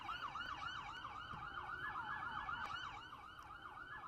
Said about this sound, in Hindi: सायरन की आवाज भी वहां पर सुनाई दे रही है